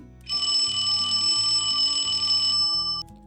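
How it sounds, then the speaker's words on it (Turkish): Bright, steady electronic beeping rings continuously for nearly three seconds, like several alarm clocks sounding at once, with no talking. "çalar saatleri çalmaya başlamıştı."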